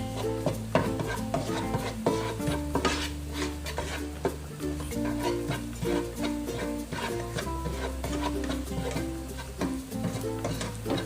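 Thai kua kling curry paste stir-roasted in a pan over low heat, with repeated scraping and stirring strokes and a soft sizzle, set under steady, prominent background music.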